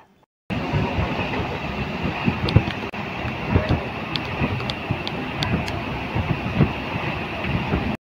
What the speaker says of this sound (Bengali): বর্তমানে কুয়াশা মাখা ধান ক্ষেতের পাশ দিয়ে ছুটে চলেছে আমাদের ট্রেন।